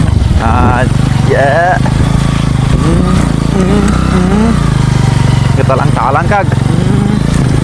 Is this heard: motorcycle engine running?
yes